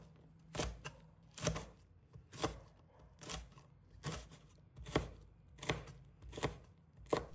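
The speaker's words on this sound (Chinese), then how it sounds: "全部掰好后，把它切成小段，这样比较方便料理机运行" Bird's eye chilies being chopped into small pieces with a knife on a board, about ten crisp, evenly spaced chops, close and fairly quiet.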